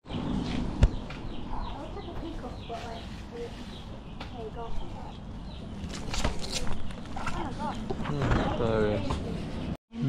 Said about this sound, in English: It's full of chickens and little baby chicks.